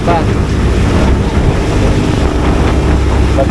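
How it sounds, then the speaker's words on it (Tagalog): Strong wind buffets a fishing boat in stormy weather with rain, a loud continuous roar and rumble close to the microphone, with voices faintly under it. "Malakas ng hangin, may ulan pa."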